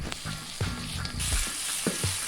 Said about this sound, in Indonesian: Kita goreng bumbunya sampai matang.